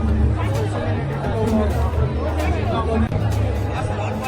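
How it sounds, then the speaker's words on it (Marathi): Dense crowd babble fills a packed shopping festival hall in Ahilyanagar, many overlapping voices at steady loudness with a constant low hum underneath and no single speaker standing out. "पब्लिक बघा, गर्दीच गर्दी होती."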